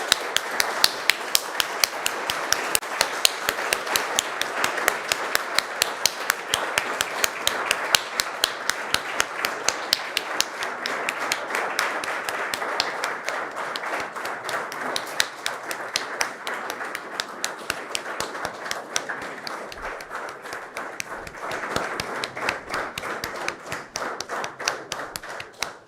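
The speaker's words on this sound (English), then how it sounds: "Let's give him a round of ovation." An audience claps steadily and densely for Kenyan President William Ruto at Carnegie Mellon, a continuous run of sharp hand claps with no letup for about twenty-five seconds, fairly close and without talk.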